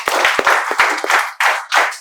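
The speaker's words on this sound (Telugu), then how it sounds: "Claps for him." A spoken-English class claps for a student, a short burst of loose, uneven handclaps from a small group, close and fairly loud, with distinct sharp claps merging into scattered applause.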